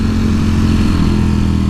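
A 2018 Ducati Panigale V4S revving in a tall first gear, its engine a loud, steady, close-up roar that holds without a break.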